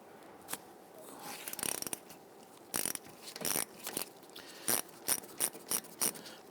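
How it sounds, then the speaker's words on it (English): A 10mm socket ratchet clicks in short bursts while loosening brake line bolts on a 2000-2006 Toyota Tundra rear wheel cylinder, close and quiet, with irregular ratcheting strokes and small metallic knocks. "Now we're going to try and use our 10mm socket here."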